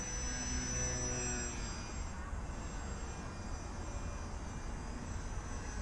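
Homemade KT foam board FT Baby Blender remote-control biplane flying outdoors, its electric motor giving a steady, moderately distant drone with a slowly shifting whine as the throttle changes.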